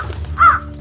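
A single crow gives one short, harsh caw near the middle, loud and close over a low steady background hum, with no speech.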